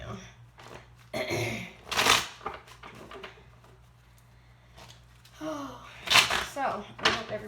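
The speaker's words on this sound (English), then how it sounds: "I like to shuffle the cards in order to get better energy." Tarot cards being shuffled by hand, several quick riffling and sliding bursts close to the microphone, separated by quieter gaps, with a person speaking softly in between.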